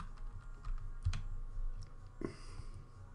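Computer keyboard keys, including shift and C, are tapped a few times at a desk, soft isolated clicks close by in a quiet room.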